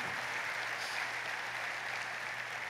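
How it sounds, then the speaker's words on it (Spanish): A congregation gives a faint, distant round of applause at the start of a religious gathering, a soft even patter over a low steady hum with no voices. "Ese aplauso es para que usted venga"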